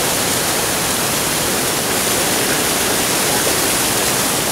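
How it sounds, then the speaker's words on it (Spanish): The San Lorenzo stream, swollen and heavily loaded with water after a storm, rushes in a loud, dense, unbroken roar with no talk over it. "Y ahora en imágenes el arroyo San Lorenzo, súper cargado de agua."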